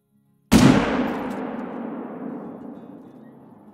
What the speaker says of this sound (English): we'll shoot the female